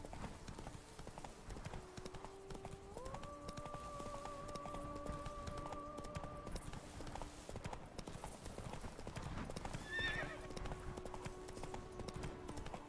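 Roach, Geralt's horse in The Witcher 3, galloping with a rapid, steady clip-clop of hooves, with a faint tonal game music line running beneath.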